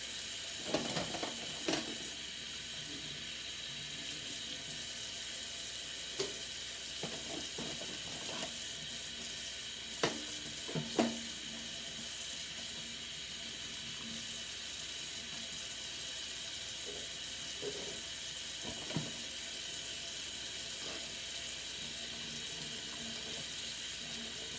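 A tap runs steadily into a kitchen sink while silverware is washed, with occasional clinks and clatters of metal utensils over the constant water noise.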